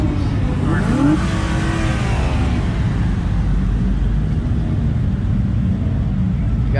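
Cars pulling out of a street car meet while police clear the area, a steady loud engine rumble with a revving rise near the start, continuous and close throughout.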